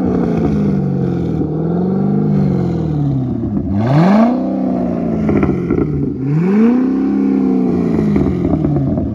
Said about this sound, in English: This is a big boy V8.